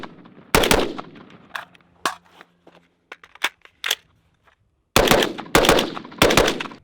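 A piston-driven rifle fired rapidly through a magazine, with loud close sharp reports, some in quick bursts and some single shots, and pauses of quieter clicks and handling between them.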